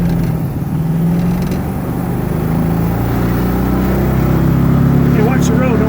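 A 1969 Volkswagen Karmann Ghia rolls down the road with a steady low engine drone and road rumble heard from inside, continuous and fairly loud throughout.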